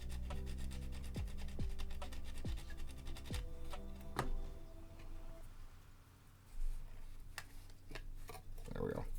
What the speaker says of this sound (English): I think I need to sand down a little bit more here